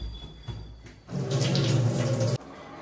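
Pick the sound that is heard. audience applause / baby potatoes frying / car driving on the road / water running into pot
water running into pot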